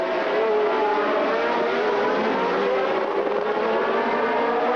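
Formula 1 race cars from the 1979 US Grand Prix roar past as a steady, loud engine drone that holds for several seconds, with no voices.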